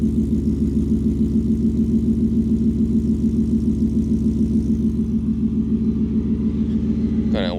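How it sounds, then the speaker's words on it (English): A Ford F150 pickup with a custom exhaust idles steadily, giving a deep, even, pulsing rumble close by. The exhaust note holds constant, and a brief higher sweep enters at the very end. "Now the exhaust has calmed down."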